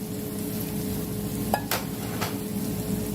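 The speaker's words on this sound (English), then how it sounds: "So just a quick sear on both sides." Shrimp searing in a hot pan for shrimp and grits give off a steady, close sizzle, broken by a couple of brief scrape-like bursts.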